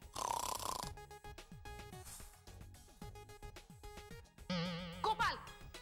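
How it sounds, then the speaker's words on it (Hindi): Exaggerated loud snoring in a comedic domestic scene, rhythmic rasping snorts repeating over background music, with warbling cartoonish effects layered in toward the end. "इतने बुरे खर्राटे"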